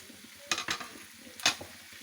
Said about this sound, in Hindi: अब इसको 5 मिनट हो गए मुझे भूनते हुए।